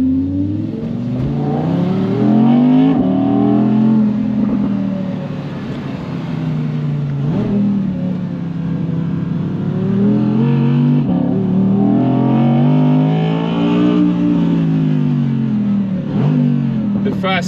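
Audi R8 RWD Performance convertible with its top open, driven on a closed private road, its engine climbing and easing repeatedly in strong rising and falling revs, close and loud throughout.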